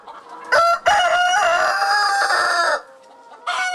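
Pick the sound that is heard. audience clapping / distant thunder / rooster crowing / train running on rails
rooster crowing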